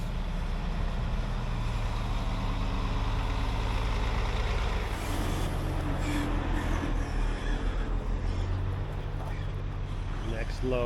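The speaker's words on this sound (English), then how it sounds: "we got a couple full trucks, so back in Teamster mode hauling today" A loaded truck hauling canola rumbles steadily at close range, its engine drone continuous throughout with a brief hiss like an air brake, while a voice talks over it.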